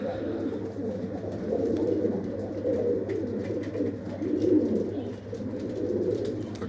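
Pigeons at a dovecote during breeding season coo steadily in soft, low, overlapping murmurs, close and continuous with faint background noise.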